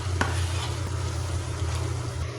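Carrots and zucchini sautéing in a pan, with a steady, even sizzle, a low hum underneath and a few faint stirring scrapes.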